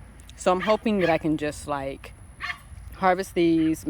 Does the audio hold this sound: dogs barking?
yes